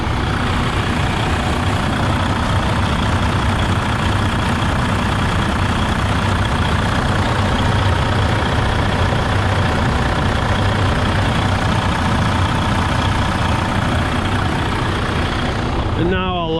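A Freightliner Coronado highway tractor idles close by with the hood up, a steady, loud diesel rumble that holds evenly throughout.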